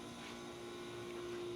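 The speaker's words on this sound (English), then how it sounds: "The noise you hear is our ice machine." Commercial ice machine running steadily in a used-appliance showroom, a continuous mechanical hum with a strong tonal drone and broadband whirr, constant and fairly close throughout.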